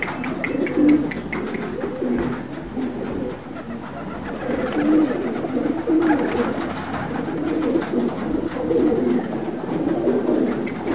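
Pigeons cooing repeatedly nearby, low throaty calls in a steady rolling rhythm over faint background noise.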